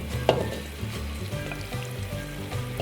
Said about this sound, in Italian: Non appena il soffritto si sarà imbiondito aggiungiamo la polpa di cinghiale